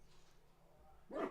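A dog barks once at the very end, a short, moderately loud woof from nearby after a stretch of quiet room tone.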